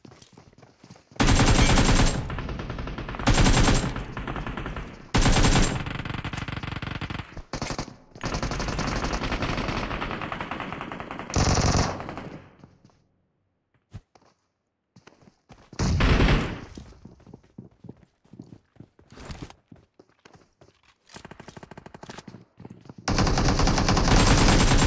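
AKM assault rifle fire in PUBG Mobile: loud, close automatic bursts of varying length separated by pauses, with a few single shots and quieter distant firing between them, no talking.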